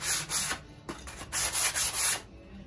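Sandpaper rubs back and forth over a 14.5-inch wooden side piece in a run of rhythmic, close, hissing strokes, with short pauses between passes and no talking.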